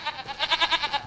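Goats in Farming Simulator 25 bleat in a quick run of nasal, wavering calls, several overlapping pulses close by and growing louder, with no talk over them.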